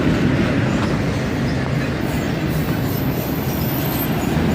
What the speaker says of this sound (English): When at track speed, these autorack trains usually take an average of just over 2 minutes to go through here.